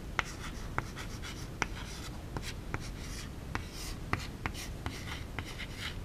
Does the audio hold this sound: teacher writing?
yes